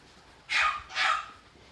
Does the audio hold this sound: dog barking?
yes